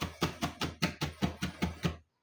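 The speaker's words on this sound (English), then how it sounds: "And you can do fine chopping as much as you like." Vegetables being chopped by hand with a knife on a cutting board, making about nine evenly spaced, crisp thuds close by in a quick, steady rhythm before stopping.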